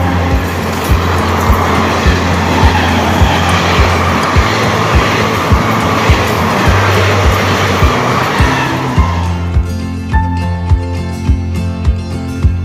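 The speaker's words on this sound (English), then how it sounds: "79306 Ratlam Mhow or Dr.Ambedkar Nagar DEMU, the later version of this DEMU with a higher visibility front" Ratlam–Mhow DEMU diesel train, a later version with a higher-visibility front, climbing a gradient with a loud, steady engine roar and rhythmic clanking that carries on throughout, shifting to a thinner, more tonal drone near the end.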